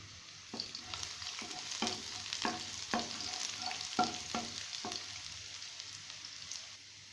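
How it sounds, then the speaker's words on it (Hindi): Garlic frying in hot oil in a pan, a steady soft sizzle broken by repeated scraping clicks of a spoon stirring, fairly quiet and close with no voices. "अब मैं इसमें लहसुन डालूंगी और इसको गोल्डन ब्राउन कर लेंगे।"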